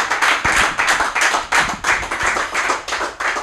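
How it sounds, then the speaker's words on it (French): A television studio audience clapping in rhythmic bursts, with close, sharp hand claps pulsing steadily and no talking over them. "Sous vos applaudissements"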